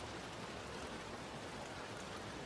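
Steady rain falls continuously, a dense even hiss of drops without pauses, moderately quiet and with no other sounds.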